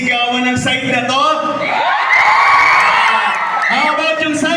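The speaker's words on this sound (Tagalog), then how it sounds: "Pwede bang marinig yung sigawan ng side na to?" A crowd at a Bulakan election campaign rally cheers and shouts loudly in a sustained swell, with high whoops and children's voices rising over it, plus some speech.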